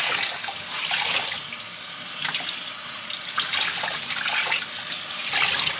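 Tie-dyed shorts rinsed under a running tap, a steady loud rush of water into a sink with splashy surges as the fabric is worked under the stream, close and continuous with no talking.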